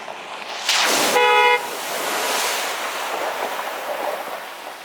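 A car horn gives a single short honk on an off-road trail in Moab under broad rushing noise, like wind or surf, that carries on after it.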